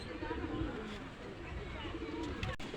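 Pakistani teddy pigeons coo softly in a low, murmuring rhythm, faint against background noise and a nearby voice.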